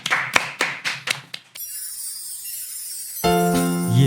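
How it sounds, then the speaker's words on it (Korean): A small audience gives a short burst of about half a dozen sharp, close hand claps, then a pause before a song starts playing. "자 박수로 청해 듣겠습니다."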